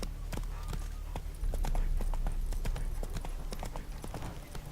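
Horse hooves clip-clopping as a rider travels in The Witcher 3: a steady, close, rhythmic run of sharp hoofbeats over faint ambient noise.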